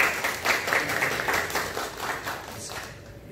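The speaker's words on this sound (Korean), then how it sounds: "다시 한번 박수 한번 할까요?" A church congregation claps for a newlywed couple during a Sunday worship service, a dense, moderately loud burst of applause that thins and fades toward the end.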